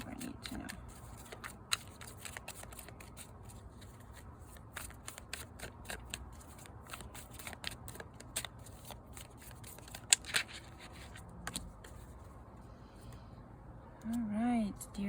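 Tarot cards shuffled by hand for a reading, a close, continuous papery riffle with crisp clicks and flicks, and a brief voice near the end.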